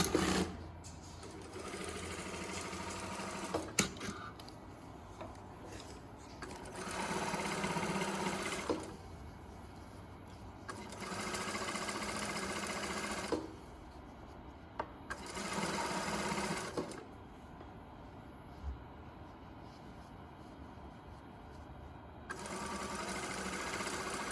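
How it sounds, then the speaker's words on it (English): A sewing machine stitches a French seam at a quarter inch in several separate bursts of steady whirring, with short quiet pauses between runs. "now we're going to stitch the French seam at a 1/4 of an inch"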